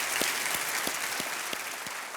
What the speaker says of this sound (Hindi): हम तालियों के साथ इनका स्वागत करेंगे।